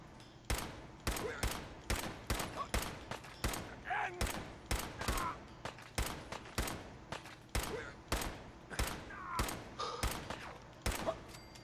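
Gunfire in the video game Fallout 4 rings out as a long run of sharp, loud shots in irregular bursts, some rapid and some spaced, with faint voices between them.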